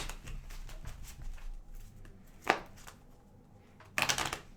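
A tarot card deck being shuffled by hand, heard as a few brief, close papery riffles and rustles against a quiet room background.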